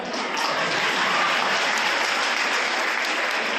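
An audience applauding at a Gujarati speech event on mobile addiction: dense, loud, continuous clapping from a large crowd, steady throughout without a break.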